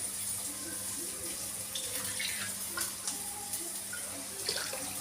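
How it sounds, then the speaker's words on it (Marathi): Water is poured into a pan of fish curry. The faint, steady trickle and splash go on throughout, quiet and close, with no talking. "अजून थोडंसं पाणी टाकणार आहे"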